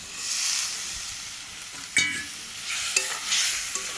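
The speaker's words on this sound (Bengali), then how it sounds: "এই দেখো এইবার লতিটা দিয়ে দিলাম।" Tender taro stolons tossed into a pan of fried spices for dried fish curry sizzle and crackle, with a few sharp scraping stirs of a spatula breaking through the steady close frying hiss.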